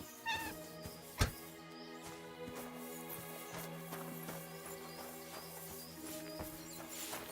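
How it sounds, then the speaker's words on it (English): A cat meows in the medieval role-playing game Kingdom Come: Deliverance 2, a few short mews heard over a steady layer of game music and ambient sound, soft and fairly close. "Is that a cat?"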